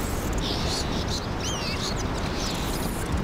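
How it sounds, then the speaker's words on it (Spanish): Crows in Castlevania Lords of Shadow give a few short, strange, duck-like calls that sound faint and high above a steady, noisy game backdrop. "Suenan raro para ser cuervos."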